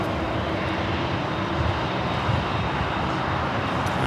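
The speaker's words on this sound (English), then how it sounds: "There in the background, Virgin Atlantic Flight 8 taking off." A Virgin Atlantic airliner takes off at Los Angeles International Airport, a steady broadband engine roar holding constant and fairly distant throughout, with no voices.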